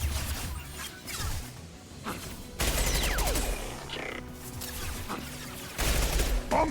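Gunfire in Mass Effect 2 comes in loud bursts of rapid shots and impacts, broken by quieter gaps, with whooshes and crashes mixed in amid combat.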